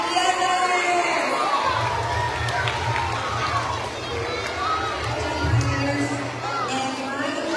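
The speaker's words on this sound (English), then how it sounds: "Let's give them a round of applause." A school assembly crowd of children cheering and clapping, a loud busy roar with shouts and chatter layered over it, continuing steadily throughout.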